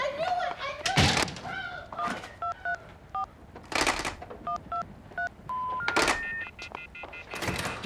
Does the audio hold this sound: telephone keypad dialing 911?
yes